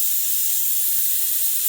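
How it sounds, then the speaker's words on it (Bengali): Chopped garlic dropped into hot cooking oil gives a loud, steady, close hiss of sizzling that holds evenly for the short moment without any other sound. "তেলের মধ্যে রসুন কুচি দেব"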